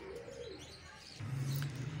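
Golden pigeon (Kamagar breed) cooing in a low, steady murmur that swells louder in the second half, with faint bird chirps higher up in the background.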